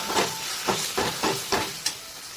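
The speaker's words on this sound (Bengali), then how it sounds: "আর এই সময় দিয়ে দেবো কেটে রাখা টমেটো, দিয়ে এটার সাথে আমাদের ভালো করে মিক্স করতে হবে।" Chopped tomatoes are stirred into mutton keema frying over a low gas flame, with about five rhythmic scraping strokes over a soft hiss, close and clear with no talking.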